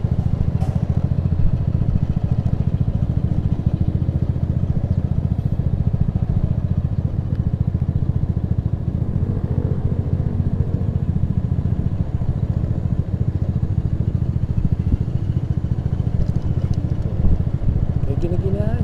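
Motorcycle engine braking in second gear on a steep descent from Puncak 3 to Puncak 2, a steady loud rumbling drone with clatter and wind throughout, with talking over it.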